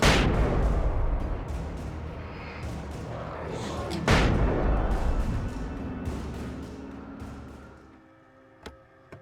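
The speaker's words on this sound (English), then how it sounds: "Nice, flares and flashbangs." Flares and flashbangs go off in the video game Alan Wake: two big booming blasts, one at the start and one midway, each followed by a rumbling tail that fades into quiet, with a small sharp click near the end.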